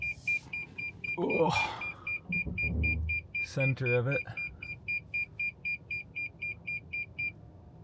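Steady rapid beeping from a car's parking sensors, a regular pulsed tone repeating for several seconds while driving down a narrow coastal town road in Norway, with a person talking over the start.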